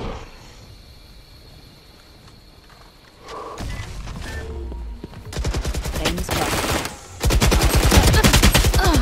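Valorant weapon fire builds from quiet background game noise into loud bursts of rapid automatic shots, with heavier sustained firing near the end and no speech over it.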